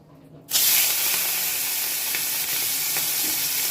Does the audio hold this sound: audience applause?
no